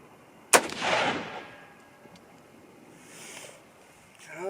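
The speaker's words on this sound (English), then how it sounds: "So here's the last three shots. Target's at 100 yards." A single sharp rifle shot cracks out at a range with a target set at 100 yards, followed by a rolling echo that fades over the next couple of seconds.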